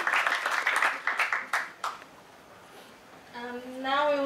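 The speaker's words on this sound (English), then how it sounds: "Give one more round of applause for the official website launch." Audience applause for an official website launch at an ASEAN youth forum, a burst of clapping that fades out after about two seconds, then a tonal sound with harmonics.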